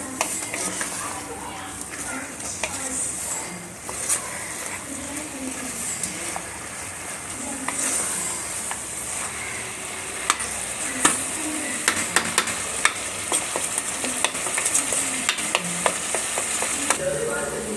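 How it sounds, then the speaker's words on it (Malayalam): Rice mixed with biryani masala is stirred in a pot for a meat kanji, with repeated scraping and clinking of the spoon over a low sizzle, while voices talk now and then. "ബിരിയാണി മസാല നല്ല മിക്സ് ചെയ്യാം"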